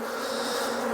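Honey bees swarm and buzz loudly at an open hive during a smoked inspection, a dense steady drone filling the whole moment with no voices.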